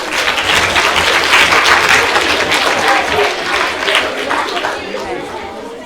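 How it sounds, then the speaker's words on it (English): Audience applause at a talk on human vision, a loud, dense wash of clapping from a crowd, with voices and chatter mixed in throughout. "Round of applause, please."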